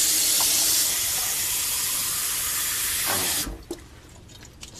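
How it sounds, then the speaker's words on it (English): Water runs from a kitchen tap in a steady, fairly loud hiss for about three seconds, then cuts off to near quiet. "Let's grab a bit more water here from the tap."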